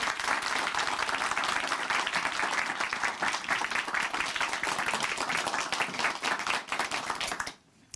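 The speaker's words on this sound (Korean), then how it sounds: "박수로 모실게요" A church congregation at Chuncheon Hanmaeum Church applauds, a loud, dense, continuous clapping that fills the room for several seconds before stopping abruptly near the end.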